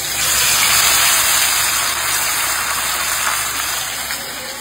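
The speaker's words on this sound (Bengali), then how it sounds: "তেলে দিয়ে দেবো, দিয়ে দিলাম সুন্দর করে।" Battered paneer pieces drop into hot oil and fry with a loud, steady, hissing sizzle that holds for several seconds and eases slightly toward the end.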